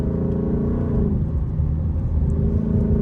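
A Ford Mustang S650 idles on a cold day while warming up, a low continuous rumble that swells slightly and settles, heard close and alone.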